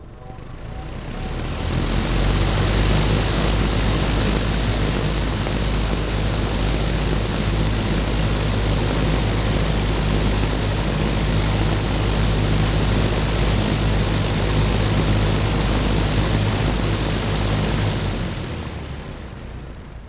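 Late-1970s Eagle Aire box fan motor switched on at high speed, spinning up into a loud, steady whooshing roar with a low hum that holds evenly for most of the time before cutting off and winding down.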